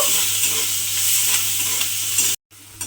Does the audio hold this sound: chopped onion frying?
yes